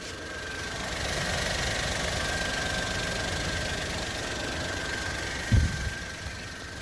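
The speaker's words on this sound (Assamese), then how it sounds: "ইঞ্জিন চাউণ্ডটো শুনি লওক।" A second-hand Maruti Alto K10 hatchback idles with a steady, low engine drone close by, broken near the end by a brief thump or knock.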